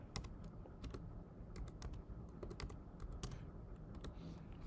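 Fingers tap steadily on a computer keyboard, with quick, irregular clacks of keys close by over a low background hum and no voices.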